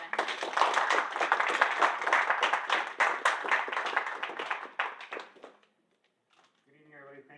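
An audience at a Maryland transportation policy event claps for a delegate being introduced, a crowd of hands ringing out steadily for several seconds before fading to near silence, then a voice begins speaking.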